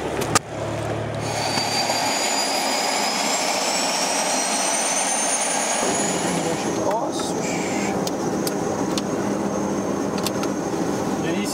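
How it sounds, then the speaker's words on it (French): The second engine of an Air Loyauté medical evacuation aircraft starts up, a rising turbine whine that climbs steadily in pitch and loudness, with brief speech around it. "On est en train de démarrer le deuxième moteur."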